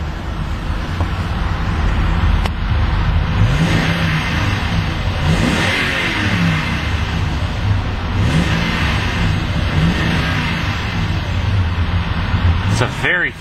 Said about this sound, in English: It's a very throaty sounding V8.